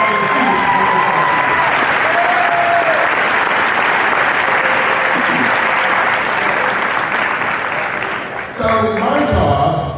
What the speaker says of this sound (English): So a big round of applause for your fellow students.